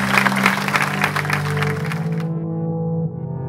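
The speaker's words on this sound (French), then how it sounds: "je vous propose d'applaudir encore une fois les créateurs" An audience at the Pépites du Pays de Grasse entrepreneurs' awards evening claps briefly and loudly, then the applause cuts off while a sustained musical tone carries on alone.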